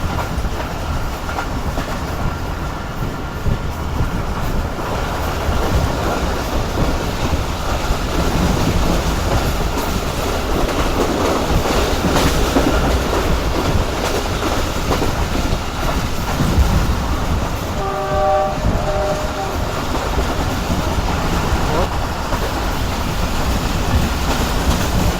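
A Jaffer Express passenger train hauled by a Chinese-built locomotive rushes along at top speed, a loud continuous roar of wheels and rattling carriages with clickety-clack and brief squeals, heard from on board with no voices.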